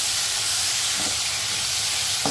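Medium-sized, thickly cut tomatoes hitting a hot pan for chana masala, giving a steady close broadband sizzle and hiss that runs throughout with no talking.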